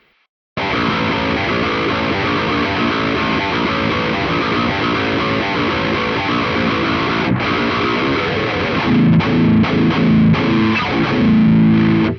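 An electric guitar through a Boss Super Overdrive pedal plays continuously with a gritty, saturated tone, chords ringing thick and loud, heavier low notes toward the end.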